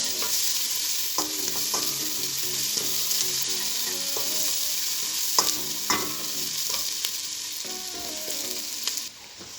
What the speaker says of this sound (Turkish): Soğanımızı ekleyelim sarımsak. Soğanımızı iyice kavuralım.